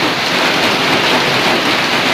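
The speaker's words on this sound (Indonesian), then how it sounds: "Ya hujan" Steady, heavy rain pouring down outdoors, a dense continuous hiss filling the whole moment at close range with no pauses and no voices.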